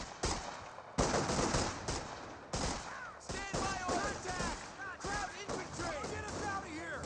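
A rifle squad opens fire in a Company of Heroes 2 battle with loud, rapid bursts of gunfire and scattered shots. A commentator's voice talks over the fighting.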